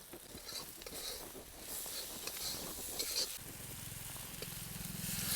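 Tomatoes and salt sautéed with fried onion, garlic and spice masala hiss and sizzle in the pan, punctuated by scraping stirs, with a low hum emerging near the end.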